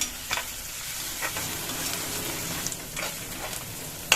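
Chopped curry leaves frying in oil for a green gram gravy, an even crackling sizzle punctuated by several spoon scrapes and a sharp clack at the end, close and fairly loud, no voices.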